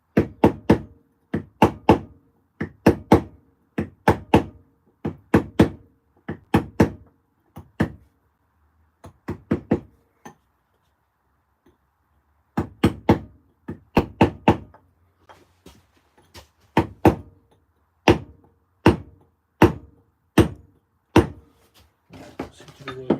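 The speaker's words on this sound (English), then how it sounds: "try the bigger hammer." A heavier hammer strikes a chisel on stone: close, loud, evenly spaced blows in steady runs, a pause of a few seconds in the middle, then a long rhythmic series of hits, with no talking.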